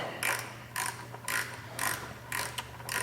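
A hand ratchet snugs up a brake line bolt on a Yamaha YZF-R3 sportbike, giving six evenly spaced bursts of crisp clicking pawl strokes, close up and clear, with no talking.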